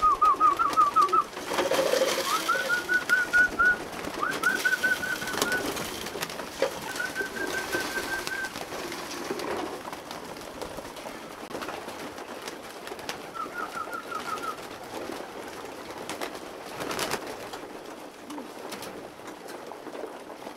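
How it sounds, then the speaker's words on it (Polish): Inside a loft housing a hundred male racing pigeons, the birds coo softly in scattered short phrases over a constant low rustle and hum, with no voices heard. "Tu są same samce i tu jest 100 gołąbków."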